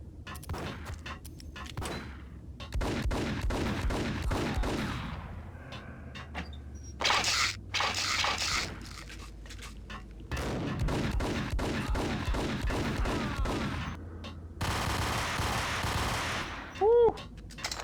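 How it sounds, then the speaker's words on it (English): Rapid bursts of automatic gunfire in a video game, shots fired from below, crackling in dense volleys with short pauses and a few brief lulls between clusters. "Oh, shooting us from below."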